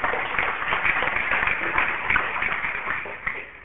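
An audience at a church sermon claps together in a dense, steady burst of applause that lasts several seconds, heard from within the room.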